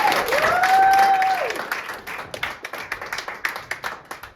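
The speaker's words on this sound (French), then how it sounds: "Sous applaudissements." Applause and clapping from a theatre audience at a live science-fiction stage show, a dense burst of hand claps that thins into scattered individual claps, with a brief tonal whine over the start.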